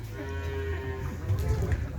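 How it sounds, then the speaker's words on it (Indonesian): A cow moos at close range, one drawn-out low call at a livestock gathering with other cattle nearby, a faint voice in the background. "Dan ini ada sapi baru lagi guys"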